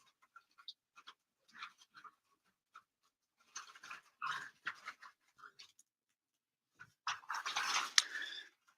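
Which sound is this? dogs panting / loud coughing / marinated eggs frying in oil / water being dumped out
dogs panting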